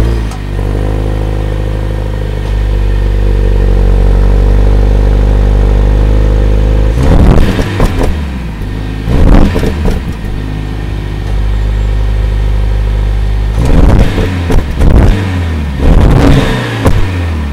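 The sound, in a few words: four-cylinder car engine revving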